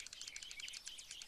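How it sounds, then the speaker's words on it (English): Birdsong in the sunny Australian Sunny Haven map of the fishing game Fishing World: a steady stream of bright, overlapping chirps and tweets, soft and fairly distant, with no talking over it. "The birds are chirping."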